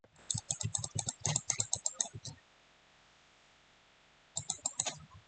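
Computer keyboard keys are pressed in quick clicking bursts, a long run of taps, then a pause, then a shorter flurry, all close and crisp.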